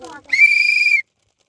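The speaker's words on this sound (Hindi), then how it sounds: "चल सीटी बजा रहे" One sharp whistle blast of about three-quarters of a second signals the start of a spin-the-wheel game, loud and shrill, right after a brief snatch of voice.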